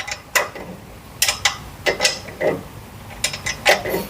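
A ratchet wrench turns a bolt while a front strut bar is fitted on a Perodua Bezza, in short bursts of rapid clicking, about five separate runs, close and fairly crisp, with no talk.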